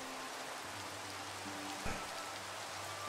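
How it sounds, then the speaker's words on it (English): Steady rain in the Minecraft video game, a continuous hiss of falling drops that fills the whole clip evenly, with no talking over it. "And it's raining."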